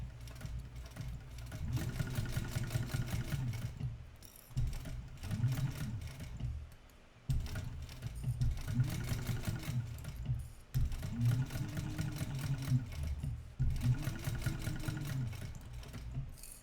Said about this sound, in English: start here and just do a top stitch of 1/8 of an inch